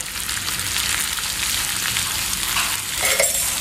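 Urad dal and five or six dried red chillies fry in coconut oil for a Kerala kootu curry, a steady close sizzle with no voices, brightening with sharper crackles near the end.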